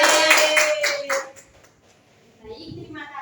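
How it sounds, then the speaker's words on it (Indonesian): A classroom group claps for a student team for about a second and a half, a quick burst of hands that fades out, followed by a short stretch of speech. "Tepuk tangan untuk kelompok 3."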